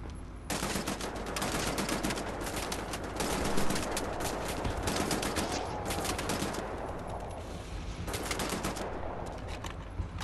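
Dense automatic gunfire in Wolfenstein: The New Order, loud sustained bursts with rapid cracks that pause briefly around the middle and near the end before resuming.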